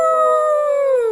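A person imitates a werewolf howl, one long sustained wavering cry that slowly falls in pitch at the end, loud and close, with no talking over it.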